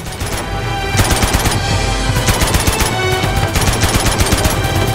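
Gunfire in the PS5 version of the video game Uncharted 2, loud rapid bursts of automatic shots cracking close by in quick succession.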